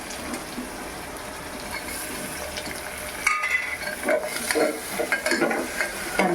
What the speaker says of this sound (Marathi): कांदा जरा लाल होऊ द्या